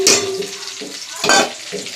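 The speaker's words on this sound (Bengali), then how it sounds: "দেখো কপি ভাজা হচ্ছে" Cauliflower frying and being stirred in a pan for khichuri, with a steady close sizzle under repeated scraping stir strokes, no talk.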